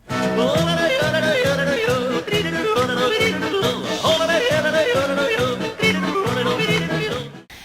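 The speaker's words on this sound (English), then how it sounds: "Yodeling is a type of singing that sounds like this." Rhythmic singing with quick leaps between low chest tones and high falsetto over a steady bouncy accompaniment, bright and continuous, no speaking.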